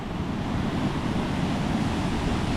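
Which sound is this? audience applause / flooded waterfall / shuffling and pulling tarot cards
flooded waterfall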